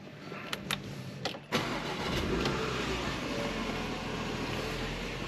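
A Porsche Macan 2.0 with 245 hp cranks briefly and then starts, settling into a steady, fairly loud idle heard from inside the cabin. A few light clicks come before the start.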